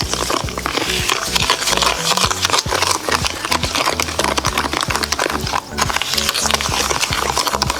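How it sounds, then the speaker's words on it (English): Brown and white sugar are stirred into a banana bread mixture in a bowl, a rapid, continuous rhythmic scraping and thumping of a spoon or whisk, close and loud throughout. "I'm adding it in this mixture, and then I'm going to mix."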